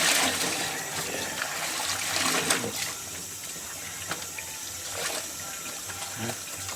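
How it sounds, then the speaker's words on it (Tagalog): Laundry is washed by hand in water, with irregular splashing, sloshing and gushing bursts at moderate volume, close by and without clear speech. "Tayo ay tuloy pa rin maglaba."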